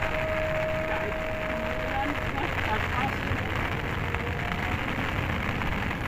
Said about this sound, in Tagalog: Nabot na kami ng ulan, ng unos.